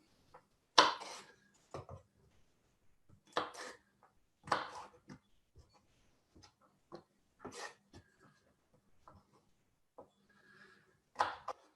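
Knife mincing chives on a cutting board, with scattered sharp chops in short bursts and quiet gaps between them, fairly close and faint overall.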